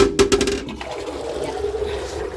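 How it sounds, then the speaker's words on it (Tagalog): Toilet in a kindergarten restroom flushing during general cleaning, a sudden gushing rush of water at the start that settles into a steady trickling refill, close by. "I-flush ko na kasi lagyan ko ng sabon."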